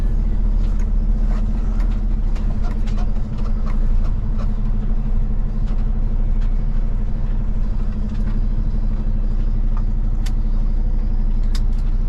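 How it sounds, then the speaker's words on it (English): Flatbed truck backing up on a rough street in downtown St. Paul to straighten its trailer, a loud, steady diesel rumble held close throughout with faint scattered clicks and rattles. "we're just gonna back up probably about 100 feet, get the trailer straightened out again"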